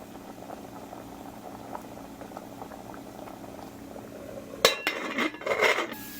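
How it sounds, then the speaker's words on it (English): Creole rice with a bay leaf simmers under a lid in a pot, a quiet steady bubbling; near the end a loud clatter of the metal lid and pot cuts in briefly. "put the top on this and let it simmer"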